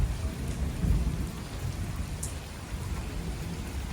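Steady rain pours over farm fields during a monsoon shower, a dense continuous hiss with low rumbling underneath, fairly loud and unbroken throughout with no voices.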